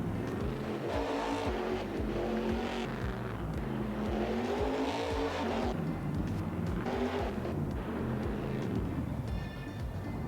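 A heavy truck engine in Farming Simulator 22 revs up and down repeatedly, rising and falling in pitch with a loud, close, growling roar like a race car and no talking.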